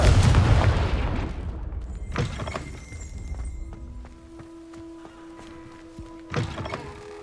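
Confringo fire spell cast in Hogwarts Legacy, a loud burst with a crashing, shattering impact that fades into lingering magical ringing tones, then another blast hit near the end.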